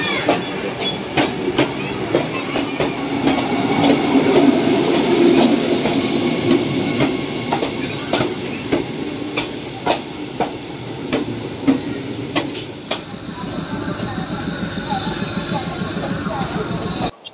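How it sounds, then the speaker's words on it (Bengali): A Vande Bharat train rolls past near Howrah station, a steady rumble of wheels on track with sharp rhythmic clicks and clanks throughout, fairly loud and close, with faint voices mixed in. "ঘুম ভাঙলো পরের দিন সকালে বন্দে ভারতের আওয়াজে, যখন আমরা প্রায় হাওড়া স্টেশনের কাছাকাছি চলে এসেছি"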